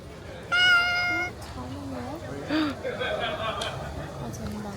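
A cat meows several times, one long high cry followed by shorter ones, with people talking quietly nearby.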